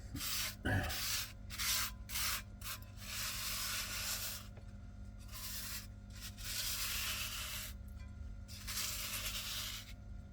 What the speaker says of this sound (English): I wanted to show how easily it is to clean a seasoned cast iron